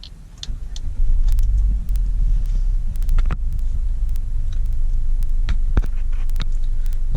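A 2019 Hyundai Creta engine cranks over and catches, then settles into a steady low idle rumble heard from inside the cabin, with a few sharp clicks and taps scattered over the hum.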